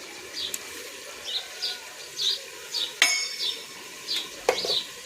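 A spoon stirs chili powder into chicken curry in a pot over a wood fire, with a series of light metallic scrapes and clinks in a loose rhythm and two sharper knocks against the pot.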